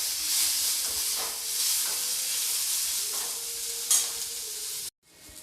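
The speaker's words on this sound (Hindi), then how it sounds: "मैं प्याज को हल्का समय लगभग आधा मिनट तक भूनूंगी ताकि ये ट्रांसपेरेंट हो जाए" Onions fry in a pan for a karela recipe, a close, bright continuous sizzle with faint stirring that cuts off abruptly near the end, leaving quiet.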